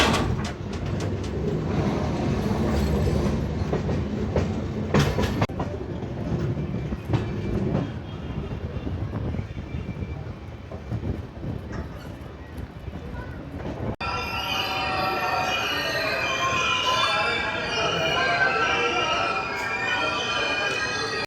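The Konark Express runs along the rails with a steady close rumble, clanking wheels and occasional squeal from inside the moving train, and a brief burst of talking partway through.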